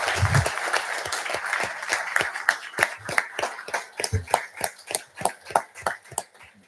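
A burst of applause from the audience at a Mississippi Transportation Commission meeting, dense at first and then thinning into distinct, individual claps near the end.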